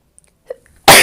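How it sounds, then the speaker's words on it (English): A short catch of breath, then one loud, explosive sneeze bursting out close up at the very end. "now I need to sneeze"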